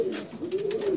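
Pigeons coo in a loft of racing birds, a steady low murmuring with overlapping soft calls running through the full second at close range.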